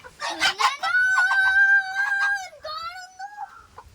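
A rooster crows loudly and close at feeding time, a long drawn-out call with a rising then sustained tone, mixed with some chicken clucking.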